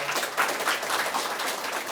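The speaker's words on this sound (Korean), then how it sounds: "심사위원회 결정에 공감하는 뜻으로 큰 박수 부탁드리겠습니다" A ceremony audience applauds at the 16th Im Jong-guk Award presentation, with dense, steady clapping from many hands that stays at a moderate level for the whole span.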